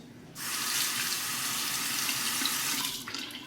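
A bathroom faucet runs at full flow into the sink during a wet shave, a loud steady rushing splash that starts abruptly and continues to the end.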